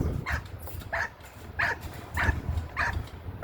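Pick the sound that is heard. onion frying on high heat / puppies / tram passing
puppies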